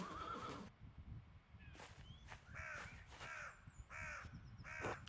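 Horses in the medieval-styled game Pentiment let out a few short neighs and whinnies, spaced across the moment, over a steady rustle of ambient background.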